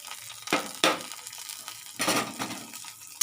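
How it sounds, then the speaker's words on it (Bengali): Raw turmeric dropped into hot oil in a frying pan, making a few sharp crackling, sizzling bursts over a steady low hiss of hot oil, close by. "তেল গরম হয়ে গেছে, এর উপর দিয়ে দেবো আমি যে কাঁচা হলুদটা কুড়িয়ে রেখেছিলাম"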